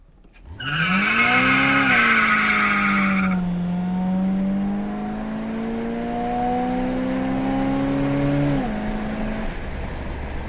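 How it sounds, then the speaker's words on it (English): A 1979 Chevrolet Malibu Classic G-body with an automatic transmission does a burnout from a dead stop, its tires squealing loudly and continuously for about eight seconds, the pitch rising through first gear before a shift into second. "So that burned the tires all the way through first gear, and it hit second gear"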